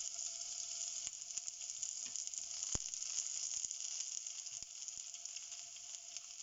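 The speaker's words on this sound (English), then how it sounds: "mustard seeds splattering something like this" Mustard seeds and urad dal sizzle steadily in hot oil, a close hissing bed broken by sharp pops and crackles as the seeds splatter, with no talking.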